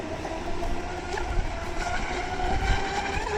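A ProBoat U-34 8S radio-controlled hydroplane runs at high throttle across water, its motor a steady high-pitched whine mixed with rushing spray and wind, fairly loud and continuous throughout without speech.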